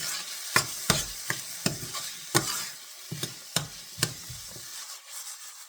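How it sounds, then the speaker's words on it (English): Chopped tomato and capsicum cook with onions in a pan for pav bhaji, with a soft sizzle under a series of sharp, irregular spoon clacks from stirring, close and fairly quiet. "So I like chopping them finely and then cooking it with the onions."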